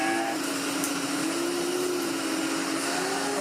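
Hoover Constellation vacuum cleaner running with a refurbished Electrolux turbo head fitted through an adapter, a steady loud close drone with a constant tonal hum and no pauses.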